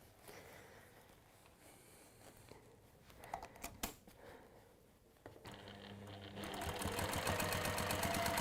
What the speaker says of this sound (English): I'm going to stitch that on and across there and do the same the other side.